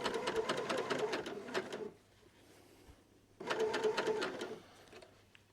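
A sewing machine runs a seam on a jumper being stitched in the round, whirring steadily for about two seconds, pausing, then starting again for a second burst at close range.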